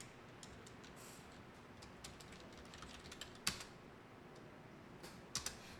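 Light, quick keystrokes patter on a computer keyboard as a folder name is typed, irregular taps with a couple of sharper key hits standing out, quiet and close with no talking.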